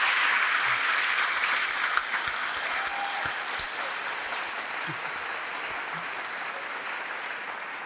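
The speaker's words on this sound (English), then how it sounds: "could everyone please give Josh, Sam, Katrine, and Amanda a round of applause" An audience applauds a team of four presenters with a steady, even round of clapping that continues throughout at a moderate, fairly close level, with a few sharper individual claps standing out.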